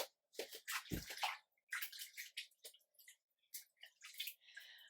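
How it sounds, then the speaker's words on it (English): Water splashes and trickles as hands are washed under a running tap in a home kitchen, coming in irregular bursts with short pauses between, fairly close and with no talking. "let's just get that off and wash my hands"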